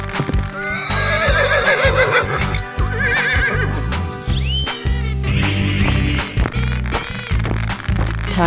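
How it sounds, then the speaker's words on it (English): A horse in a 3D animal slide video game gives loud, high whinnies over clip-clop hooves and a busy layer of game effects and music. "Horse."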